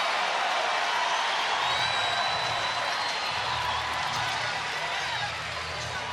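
Basketball arena crowd at an NCAA women's tournament first-round game cheering after a blocked shot, a steady broad roar filling the whole moment without a break.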